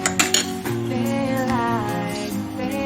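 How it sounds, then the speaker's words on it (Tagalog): Utensils scrape and clink in a bowl while sardine egg roll filling is mixed, with a few sharp taps near the start, then steady close stirring over a sustained tonal background. "So, mix lang natin."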